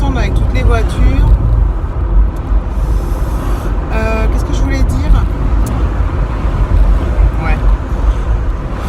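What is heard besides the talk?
road traffic, cars passing by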